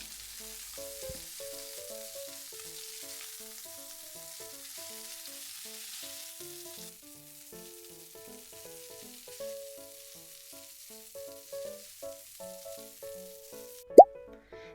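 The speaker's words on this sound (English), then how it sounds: "And then I just fry in a pan until it's golden brown." Soft frying in butter in a pan, a faint steady sizzle under gentle background music, ending in one sharp close clink or plop near the end.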